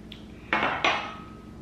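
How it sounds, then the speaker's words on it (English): A metal fork scrapes twice inside a plastic instant pasta cup of cheese-cream spaghetti, two short close scratchy strokes over a quiet room. "I got a fork. I also got a spoon. I'm going to try with the fork first."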